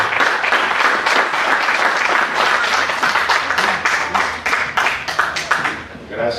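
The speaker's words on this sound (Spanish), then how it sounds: "Un fuerte aplauso para mi amigo Josué Bravo Rodríguez, que está aquí" A live audience at a speaking event in Mexico bursts into sustained, loud applause, many hands clapping densely and steadily for about six seconds before tapering slightly at the end.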